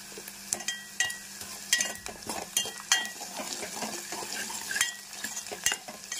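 Curry leaves crackle and sizzle in hot oil in a pan for an okra, egg and onion dish, with a busy, uneven spitting texture broken by sharp clinks of a stirring utensil against the pan.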